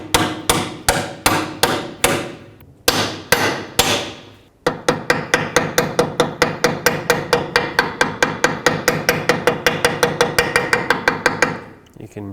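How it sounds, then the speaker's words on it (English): Steady hammer blows driving a seal into a 2007 Chevy Silverado Classic rear axle housing, a few spaced strikes at first, then a long run of fast, even, ringing hits, loud and close. "Again, hammer only on the outside of the seal."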